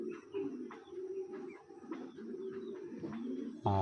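A female pigeon coos in soft, low repeated calls close by, each call rolling into the next and running throughout, with a sharp handling noise at the very end.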